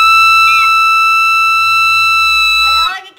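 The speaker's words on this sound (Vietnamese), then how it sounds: "cái kèn bự Út kêu dữ vậy đúng không ơi" A large horn made from coconut leaves gives a loud, sustained buzzing tone held steadily for nearly three seconds, then cutting off into a brief wobble and chatter.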